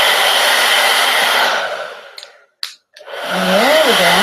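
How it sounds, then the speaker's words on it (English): A blow dryer aimed at the roots of curly hair gives a loud, steady roar, cuts out briefly partway through, then starts again with a wavering tone. "And then we take our blow dryer and we go to the base."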